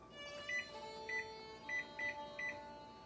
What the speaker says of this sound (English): So I'm just setting my timer for 5 minutes